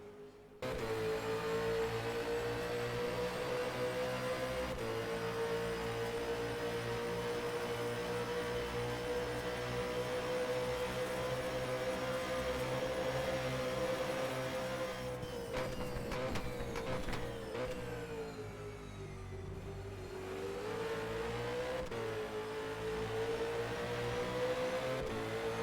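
Race car engines in the rFactor 2 sim racing game at Bathurst for the 1000, a loud steady high-revving drone throughout with shifting pitch as cars run nose to tail, rising and dipping near the end.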